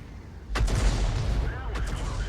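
A Hummel self-propelled artillery gun in World of Tanks fires, a sudden heavy boom at about half a second with a rolling rumble, then a second report near the end, close and loud.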